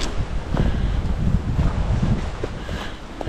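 Wind blowing on a hiking trail near Rainbow Falls in Jones Gap, a steady close roar of gusts buffeting the microphone with faint rustling underneath, no one talking.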